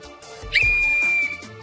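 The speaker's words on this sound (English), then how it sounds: "That was a horrible whistle." A referee's whistle blows one long, loud, shrill blast lasting most of a second. The tone wavers and sounds slightly rough at the start, then holds steady before cutting off over faint background noise.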